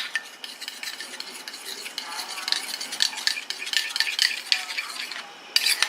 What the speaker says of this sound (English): I'm going to stir and watch how it will change the palm oil